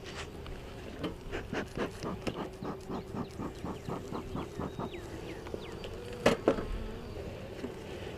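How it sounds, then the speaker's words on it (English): Honeybees buzzing steadily in an opened hive during a spring inspection, a close, continuous drone with pulsing rhythmic swells and occasional scraping or rubbing of hive frames, no speech. "these bees are pretty mellow so far"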